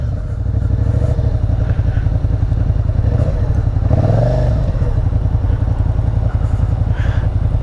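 A motorcycle weaves through cones during a DMV skills test, its engine loud and close throughout with a steady throaty putter and slight rises as the rider works the clutch and throttle.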